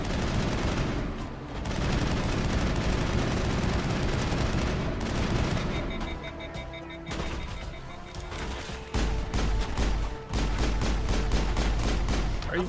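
Rapid gunfire from enemies in the Mass Effect video game, loud dense bursts and volleys continuing through most of the stretch, sharp cracks returning near the end, with no talk over it.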